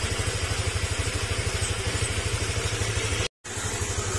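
A Honda Click 125 scooter with overheating and coolant bubbling over idles close by in a steady, rapid pulsing thrum that carries on without a break. There is one brief dropout near the end.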